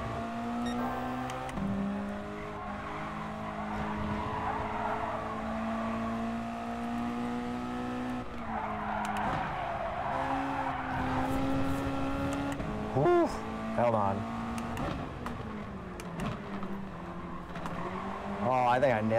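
A Mazda Miata race car in the racing game GT Sport drones steadily at high revs through a lap with shifts and brief tire squeals, while voices talk over it throughout.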